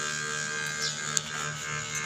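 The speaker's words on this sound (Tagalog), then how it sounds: "Electric fan na po pala yun." A small electric fan runs near a pigeon coop, giving a steady close-up motor hum and whir that holds constant throughout with no talking.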